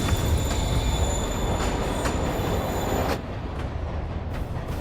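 A train rolls along in Marvel's Spider-Man, a loud rumbling rush with squealing wheels and steady rail noise that drops slightly in intensity partway through.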